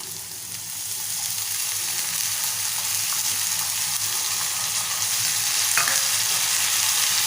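Chopped cabbage is stirred in a pan with softened onions, giving a steady, moderately loud frying hiss that swells slightly after the first second. Occasional light scrapes and ticks break through, and no one speaks.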